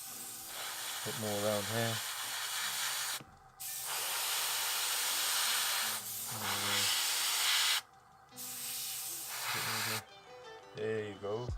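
An airbrush hisses paint onto a Space Hulk Terminator miniature in long steady bursts with short breaks, up close, as someone talks between and over the sprays.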